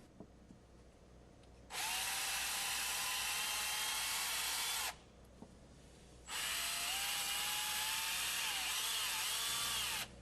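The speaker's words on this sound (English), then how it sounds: "I'm going to use a smaller 1/8-inch drill bit and clean out all these valves and" Power drill with a small 1/8-inch bit cleaning out the valves and fittings of a Cretefill pump manifold, two sustained high-pitched whirring bursts of a few seconds each separated by a brief pause, close and loud.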